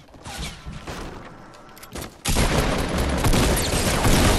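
Shotgun blasts in the video game Fortnite, a busy stretch of gunfire that turns loud and dense halfway through and stays sustained to the end.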